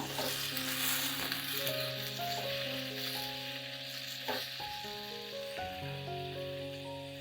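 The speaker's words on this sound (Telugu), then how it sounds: "ఇవి కూడా దోరగా వేయించుకుందాం" Tomatoes frying in a pan give off a soft, continuous sizzle, with faint tonal music running underneath throughout.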